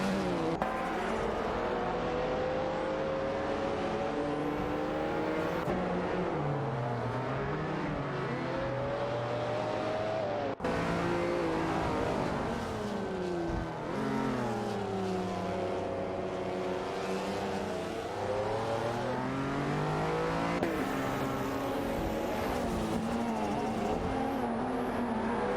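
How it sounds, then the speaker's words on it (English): Lamborghini Diablo SV race cars in a racing video game roar continuously, with engine pitch rising and falling through gear changes and corners, loud and alone with no talk. "Famaka and Alex Cosmonaut in the Lamborghini Diablo SV are currently locked in a tight battle with Sabine27 and"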